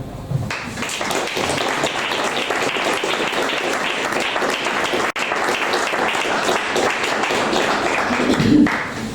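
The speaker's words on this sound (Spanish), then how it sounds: "os pido otro aplauso para él" At a book presentation, an audience applauds the author with steady, dense clapping that carries on without a break, loud and close, filling the room with no talking over it.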